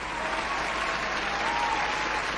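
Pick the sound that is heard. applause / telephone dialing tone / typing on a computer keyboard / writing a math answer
applause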